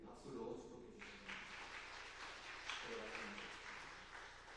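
A church congregation applauds after a baptism at a Sunday morning service, a sustained mid-level clapping that rises briefly and continues, with a voice speaking over it.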